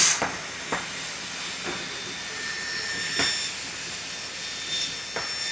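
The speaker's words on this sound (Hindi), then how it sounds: "सो अब हम लेकर आ गए हैं अपने मटेरियल को लेजर कटिंग मशीन के ऊपर।" A laser cutting machine cutting keychain material for a Burgman keychain design, giving a steady airy hiss from the assist air with several sharp faint clicks spaced through it, no talk.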